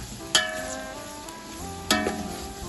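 Steady sizzling of onion and garlic-ginger paste frying in a hot pot for chicken biryani, with two sharp clanks of a utensil against the pan.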